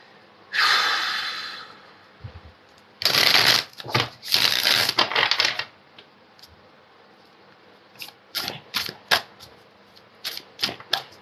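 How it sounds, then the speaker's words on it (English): Bursts of tarot cards being shuffled, a long riffle, then quick repeated flicks and taps near at hand, with quiet pauses between. "Just giving it a good shuffle so we don't get the 8 of Cups again."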